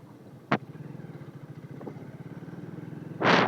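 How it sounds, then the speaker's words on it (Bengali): A motorcycle engine putters at a low, even rhythm, with two brief bursts of louder noise punctuating the steady running. "বাইক স্টার্ট দিয়ে আবার রাইড করা শুরু করলাম।"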